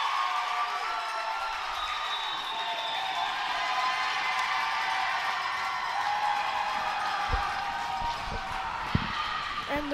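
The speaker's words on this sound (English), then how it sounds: "Crowd starting to get into it a little bit." A gym crowd at a high school girls' volleyball match stirs and cheers in a steady, building roar, with a few sharp ball or floor thumps near the end.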